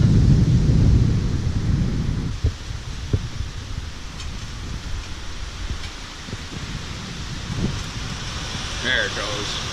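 Thunder from a passing thunderstorm over farm fields opens with a deep rolling rumble that fades into a low, steady wash of wind and rain, with a voice speaking over it.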